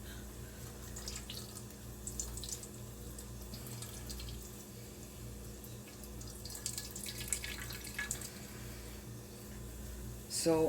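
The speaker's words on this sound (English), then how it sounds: "You want to try to squeeze as much liquid as you can." Liquid squeezed by hand from grated yuca trickles and drips faintly into a container, a soft watery patter under a voice speaking nearby.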